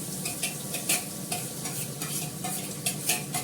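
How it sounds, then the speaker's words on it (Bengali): Carrot fries in a pan with a steady, close sizzle, punctuated by regular stirring scrapes that come roughly every half second, with no voices. "গাজরটাকে ভেজে নেবো আগে"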